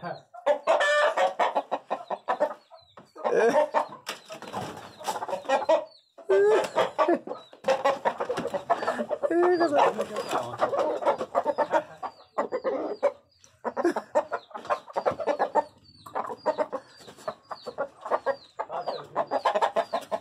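A rooster calling a hen clucks and calls repeatedly in short bursts, close by and loud, with occasional crowing-like cries between the clucks.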